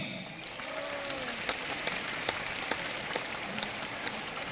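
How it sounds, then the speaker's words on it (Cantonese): Concert audience applause after a call to thank the event coordinator, a dense, steady wash of many hands clapping throughout, with scattered louder claps and faint cheers, no speech over it. "俾最熱烈嘅掌聲"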